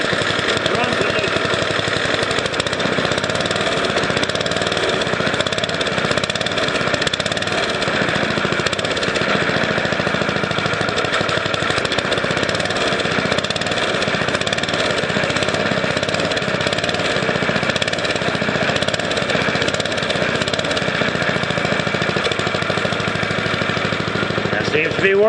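A go-kart engine runs continuously with its carburetor choke wide open in run position, a loud, steady, rattling mid-pitched drone held close for the whole stretch.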